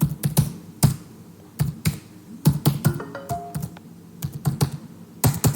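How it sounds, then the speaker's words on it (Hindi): Computer keyboard keys tapped as a username and password are typed, irregular quick clicks in short bursts, close and clear with no talk. "मैं यहाँ पर यूज़र नेम और पासवर्ड डाल देता हूँ"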